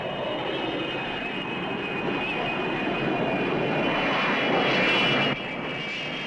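Airplane engines on a landing approach make a loud, steady roar with a high whining tone running through it. The roar swells slightly before easing down near the end, with no voices over it.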